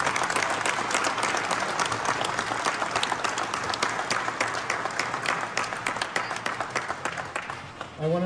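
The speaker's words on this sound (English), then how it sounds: "I really, really want to give them a really big applause." A crowd at a Volkswagen hot rod gathering at the Grand National Roadster Show breaks into sustained, dense applause that fills the room and tapers slightly toward the end.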